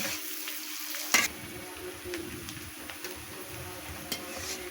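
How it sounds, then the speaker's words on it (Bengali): Chopped onion and green chilies frying in oil, a soft continuous sizzle with spoon-stirring scrapes and one sharp knock of utensil on pan, close and fairly quiet, no voices. "মরিচ আর পেঁয়াজ ভালো করে নেড়ে লাল লাল করে ভেজে নিব"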